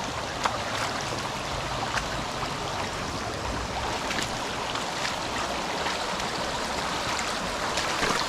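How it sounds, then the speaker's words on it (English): A side creek swollen after heavy rain rushes in a steady, loud broadband roar, close by and unbroken, with no voices. "water really seems to be rushing today"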